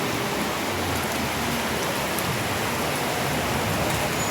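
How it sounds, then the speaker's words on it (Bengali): Heavy rain pours down in a dense, unbroken roar of drops hitting surfaces, loud and steady from start to finish. "প্রচণ্ড জোরে বৃষ্টি এসছে আবারও"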